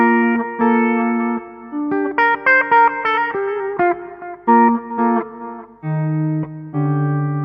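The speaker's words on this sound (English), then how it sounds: "Here's a basic clean tone, touch of reverb and delay." Clean-toned electric guitar through a tube driver pedal with a touch of reverb and delay, picking out a melodic phrase of single notes and chords that ring out and echo softly between attacks.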